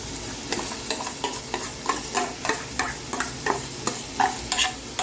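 A spoon stirs mint and green chili paste frying in a pan for pulao, making a soft continuous sizzle with a regular series of scraping and tapping strokes about every half second, close and alone.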